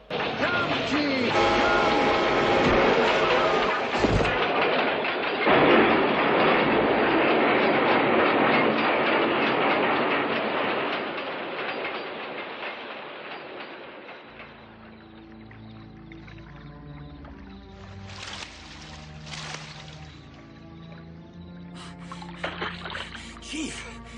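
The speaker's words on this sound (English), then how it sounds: "Suddenly a train passes by and..." A train roars past in the Disney animated film The Fox and the Hound, loud and rumbling for several seconds before fading away, followed by quieter scoring with gasps and voices.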